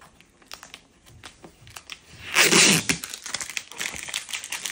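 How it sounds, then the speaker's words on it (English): Tape being peeled off an EcoFlow Smart Generator 4000 during unboxing, a loud crinkling, tearing burst in the middle, with softer rustles and handling noises around it. "Remove this tape."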